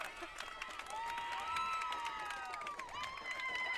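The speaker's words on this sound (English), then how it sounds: "I'm so confused by the cheering to our left" Crowd at a state semifinal high school softball game, Maple Grove at Centennial, cheering and clapping steadily after a play at home plate, a continuous moderately loud wash of voices and applause with whistle-like tones running through it.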